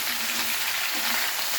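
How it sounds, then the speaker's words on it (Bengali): Potatoes and cauliflower frying in a pan and stirred, a dense continuous sizzle heard close and steady throughout. "এবার আলু আর ফুলকপি আবার নাড়িয়ে দিচ্ছি।"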